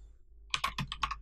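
Someone types "hello world" on a computer keyboard: after a brief quiet, a quick burst of about six or seven crisp, close keystrokes in an uneven rhythm.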